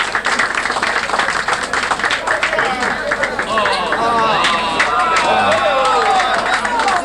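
Crowd at a 1995 outdoor athletics prize-giving fête in Cousinière, clapping steadily and loudly throughout, dense overlapping claps with chatter and background babble mixed in.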